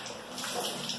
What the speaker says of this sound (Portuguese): Lava a vasilha, pra vocês verem.